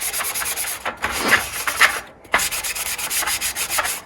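Sandpaper rubbed over a Nintendo 64 plastic shell being prepped for paint, rapid loud back-and-forth scratchy strokes close up, with one brief pause midway and no voices.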